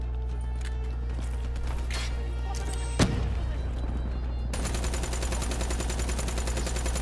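Submachine gun fire in the Call of Duty veteran campaign, a steady rapid automatic rattle with one sharp loud crack near the middle, the firing growing denser and more continuous toward the end.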